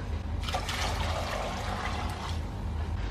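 Vegetable broth is strained out of a cooking pot for crab soup, making a continuous close pouring and splashing of liquid with no talking.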